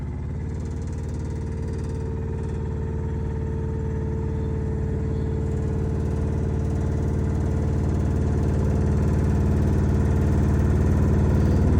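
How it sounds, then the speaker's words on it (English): Hinowa 23.12 spider lift running as its boom moves off the rest, a steady mid-pitched engine hum and hydraulic whir that grows slightly louder over time, with no talk. "first of all, move off the boom rest with the far left paddle."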